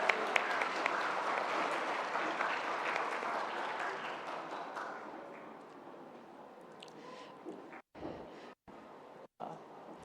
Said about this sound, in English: can everyone give a round of applause again for our hardworking judges?